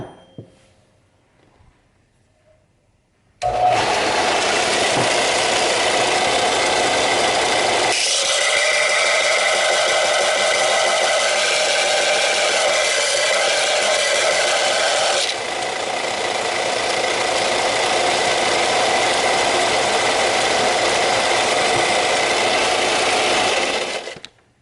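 Central Machinery belt disc sander grinding stainless steel, a loud continuous abrasive whine and rasp that starts abruptly after a quiet moment and runs steadily, shifting in tone partway as the metal is pressed against the belt.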